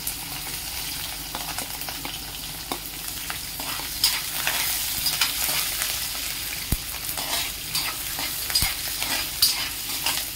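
Green chilies sizzle in hot oil in a pan alongside peanuts while a spoon stirs them, giving a steady crackling fry with scattered pops and scraping clicks throughout.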